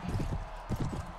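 Horse hooves thud across a large arena in a Game of Thrones mod of Mount & Blade Warband, a quick uneven clatter of beats with a brief pause midway, close and moderately loud.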